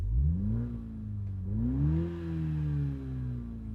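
A 2021 Toyota GR Supra with the 2.0-liter engine in sport mode revs up twice, its deep, steady drone rising and falling in pitch, close and fairly loud with no talking.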